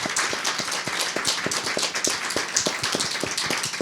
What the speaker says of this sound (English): A round of applause for them again.